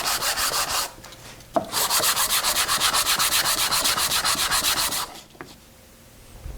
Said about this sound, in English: it's a whole lot easier to sand this inner surface right here